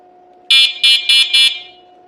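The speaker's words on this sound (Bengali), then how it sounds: "এখন আমি দেখবো আমার হর্নটা বাজে কিনা" An e-rickshaw horn honks four quick electronic beeps in a row, loud and close, over a faint steady hum.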